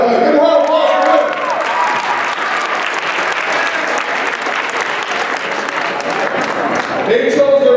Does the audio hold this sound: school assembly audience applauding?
yes